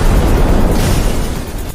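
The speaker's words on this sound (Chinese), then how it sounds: "这随手一击的爆炸威力" A loud anime-style explosion effect from a magical blast, a dense sustained roar with heavy low rumble that fades slightly over under two seconds, with no voices.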